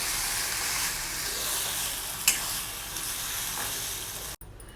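Lentils go into a sizzling tempering in a pan and are stirred, giving a steady loud hiss and crackle with a brief stirring clatter midway before the sound cuts off.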